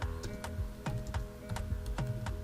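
Typing on a computer keyboard, with steady, close key clicks in an uneven rhythm, several strokes per second over a low background hum, and no voice.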